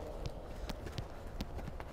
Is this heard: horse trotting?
yes